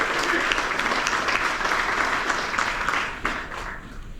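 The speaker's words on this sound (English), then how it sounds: "A round of applause for them as well." A club gala audience breaks into sustained applause, dense and even for several seconds before easing slightly near the end, with some crowd voices underneath.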